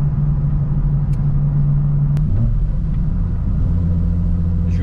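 Volkswagen Corrado VR6 Turbo petrol car driving along a closed private road, a loud steady engine drone from inside with a slight shift in pitch midway, no talking.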